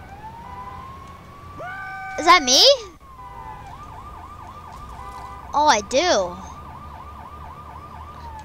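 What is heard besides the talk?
police siren in a video game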